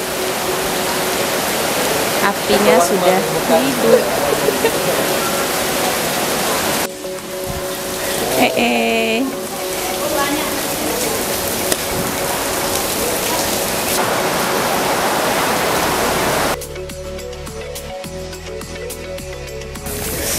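Steady outdoor rain hisses throughout, dense and continuous, with occasional clatter of cooking lemang, rice and coconut milk in bamboo, and a brief spoken phrase partway through.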